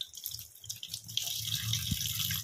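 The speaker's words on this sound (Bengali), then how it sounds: "এবার মাছগুলো এক এক করে আমি ধুয়ে ফেলি" Fish being washed one by one under running tap water at a kitchen sink, a steady rush of water with splashing and handling noises throughout, louder in the second half.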